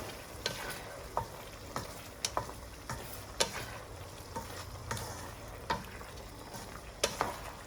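Kung Pao shrimp sauce of vinegar, sesame oil and Chinese cooking wine being stir-fried in a wok, with steady sizzling under repeated sharp spatula scrapes and clicks, close up and without talk.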